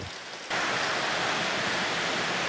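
Heavy rain pours down steadily at home, a dense continuous hiss that swells abruptly louder after a brief lighter start, with no voices.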